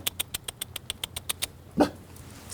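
A dog met by animal control at its home barks in a steady series of about ten sharp, evenly spaced barks, followed by a single louder, deeper growling bark, fairly close and with no talk.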